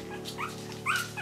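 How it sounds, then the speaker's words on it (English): Several three-to-four-week-old Chihuahua puppies whimper and yip in short, thin, rising cries close by over a steady low electrical hum. "And I hear other puppies."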